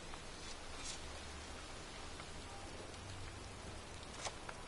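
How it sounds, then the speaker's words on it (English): Pouring rain in a cemetery in the video game Heavy Rain, a dense, steady hiss of drops hitting surfaces, quiet and continuous with a few sharper drip spikes and no voices. "standing in a cemetery in pouring rain"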